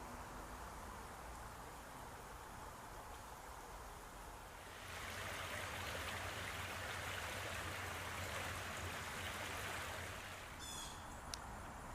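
Sligo Creek, a clean, clear stream along a trail, flows with a steady broadband rush that grows louder and fuller about halfway through, with a faint bird chirp near the end.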